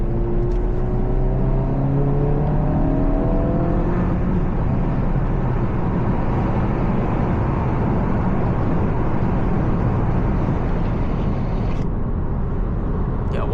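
A tuned Honda Civic Si drives along with a steady engine drone and road rumble that stays loud and continuous throughout, with a slight rising whine near the start and no talk.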